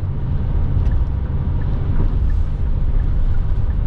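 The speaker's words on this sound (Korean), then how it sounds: "엔진 소리 들어보실까요?" Low, steady engine and road rumble from a Hyundai Staria overtaking on a highway, a smooth continuous drone heard from inside the cabin.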